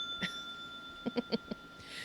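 Bell at the dock in Minecraft ringing, one early ding then a quick run of four bright dings, fairly close over faint steady background hum.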